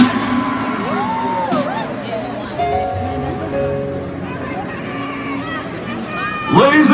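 Large live concert crowd at an African music festival in Houston cheering, whooping and screaming in a dense continuous roar, with a swell of louder shouts at the end.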